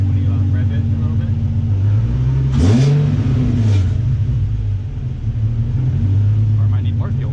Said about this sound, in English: like when you rev it a little bit.